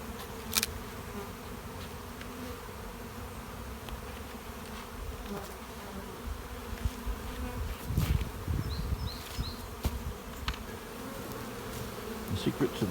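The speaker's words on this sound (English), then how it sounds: "These bees that are left behind will end up going into this hive below." Honeybees buzz continuously around overwintered nucs being installed into a hive, a steady close drone with individual bees flying past, swelling slightly louder in places, no talking.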